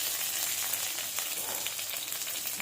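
Chilies and garlic crackle and sizzle in hot oil in a pan, a continuous bright, hissing fry with small popping spatters throughout.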